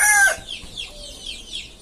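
A country hen held in hand lets out a sharp squawk, then gives softer, broken clucks up close.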